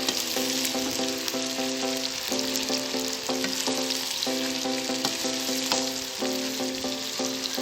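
Onions fry in a large pot for chicken biryani, a constant bright sizzle with stirring scrapes, while a repeating musical tune plays over it.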